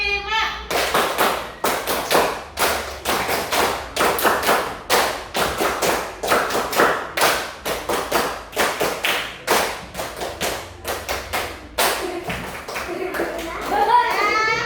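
Elementary school pupils in a classroom clap together in repeated rhythmic bursts, groups of sharp unison claps separated by short pauses, with a teacher and children speaking between the rounds.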